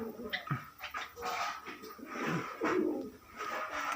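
Pigeons in a loft coo softly in low, repeated murmurs, with faint rustling and scattered bird sounds nearby.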